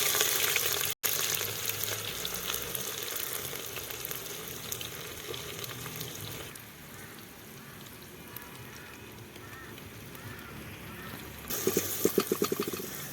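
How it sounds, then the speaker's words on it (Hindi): Onion and garlic fry in oil over a mud stove, giving a steady broadband sizzle that softens partway through and then flares up briefly again near the end, with no talking. "गंड तो रुहन वन असल पे फ्राई करुन"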